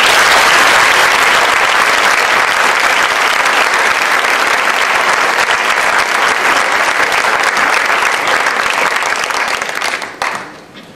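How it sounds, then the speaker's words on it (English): A large conference audience gives loud, sustained applause welcoming the Dutch Minister Maxime Verhagen to the podium, a dense roar of clapping that holds steady and then tapers off sharply at the end. "please give him a round of applause"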